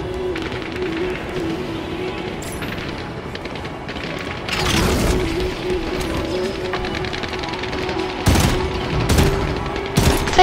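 Rapid bursts of automatic gunfire in Halo 5 crackle through a steady game soundscape, punctuated by several sharp loud shots and a booming hit near the end.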